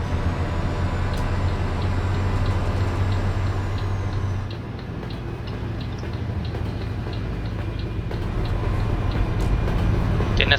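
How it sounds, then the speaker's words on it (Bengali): A train rolls past in Euro Truck Simulator 2, a steady low rumble with rhythmic clacks over the drone of a truck on the road, loud and continuous throughout. "ট্রেনের সাউন্ড পাচ্ছেন, পাশে দিয়ে এখন ট্রেন যাবে"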